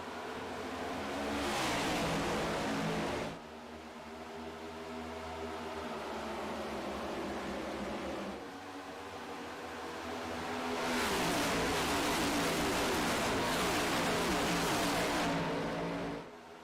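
Race cars in a Daytona racing video game roar at full throttle, the loud engine drone swelling and fading as cars pass in close succession, with a steady racing hum between surges and no talk.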